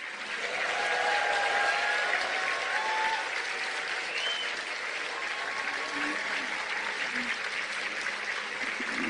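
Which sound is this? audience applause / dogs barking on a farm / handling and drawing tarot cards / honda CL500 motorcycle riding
audience applause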